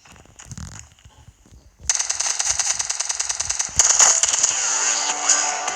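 Rapid automatic gunfire from a gun in a video game, starting after a quieter stretch and continuing as a dense, loud rattling burst that intensifies midway, with no talking.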